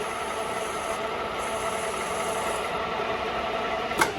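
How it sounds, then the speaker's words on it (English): Metal lathe running while it cuts a chamfer, a continuous broadband rumble and hiss with a faint high tone, steady and close, ending in a brief sharp scrape near the end; no one speaks. "turn on the lathe, and bring it in to 100. I sometimes peck at my chamfers."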